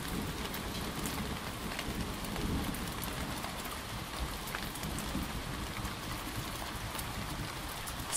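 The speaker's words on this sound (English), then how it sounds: "Steady rain produces a rhythmic, predictable, ticking sound." Steady rain falls continuously, a dense hiss of drops pattering on surfaces with no voices, even and unbroken throughout.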